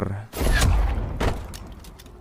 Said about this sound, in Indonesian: sebelum Rohit menembak Vikram, dirinya malah tertembak duluan dan Rohit pun modar.